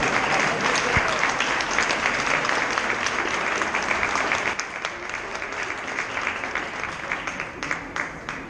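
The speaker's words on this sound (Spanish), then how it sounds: "Pues un gran aplauso para el maestro Solares." Sustained applause from an audience at a book presentation during a book fair honors the author, loud at first and then easing slightly but continuing throughout.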